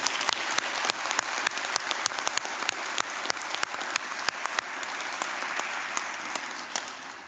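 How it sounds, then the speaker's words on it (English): Graduation ceremony audience in a hall applauding award recipients from a criminology and policing faculty, sustained clapping with sharp individual claps standing out across the whole stretch. "please give them a round of applause"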